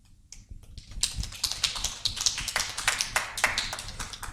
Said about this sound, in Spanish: le recibimos con un fuerte aplauso